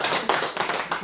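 A religious lecture audience claps briefly, a close, lively patter of hands with a few stronger accents over about a second.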